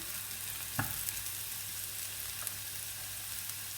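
Onion sautéing lightly in a pan while a potato grill sandwich filling is being made, a steady soft sizzle throughout with a faint clink near the start.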